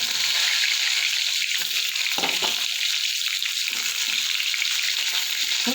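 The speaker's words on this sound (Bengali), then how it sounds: "বেগুনটা আমি একটু হালকা ভেজে নেব।" Brinjal slices coated in salt, turmeric and chilli powder fry lightly in hot oil, making a loud, dense, unbroken sizzle with faint bubbling underneath.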